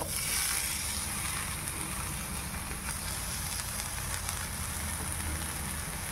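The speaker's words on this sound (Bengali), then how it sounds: "টমেটো কুচিগুলো দিয়ে দিলাম ভাজতে" Chopped tomatoes sizzle in a pan with frying onion, a soft, steady crackling hiss like light rain that continues evenly throughout, with no talking.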